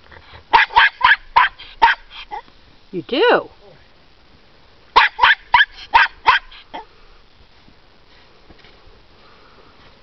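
Jack Russell terrier barking inside a car, two quick bursts of sharp yappy barks with a whine in between, close and loud, followed by quiet; a person speaks briefly.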